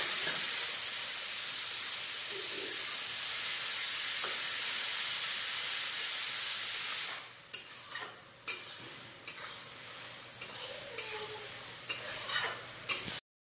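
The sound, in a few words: masala with ground coriander and cumin sizzling as water is added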